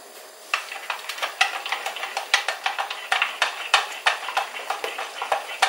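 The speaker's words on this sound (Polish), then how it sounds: "I dokładnie mieszamy, żeby nie było grudek." A spoon stirs flour into sour cream for żurek sour rye soup, producing a steady run of light clicking scrapes against the bowl in an uneven quick rhythm, close and fairly quiet.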